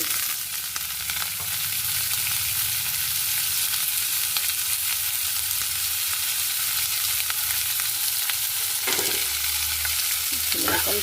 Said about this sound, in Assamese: নৰসিংহৰ পাত আৰু কেঁচা জলকীয়া